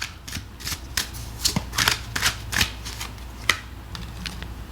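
Tarot cards are shuffled nearby, producing a quick irregular series of crisp papery flicks and riffles with no voices.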